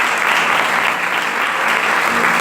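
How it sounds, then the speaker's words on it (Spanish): Loud, dense applause from a church congregation fills the room steadily from start to finish, a continuous wash of many clapping hands with no pauses. "Dale un aplauso al Rey entonces."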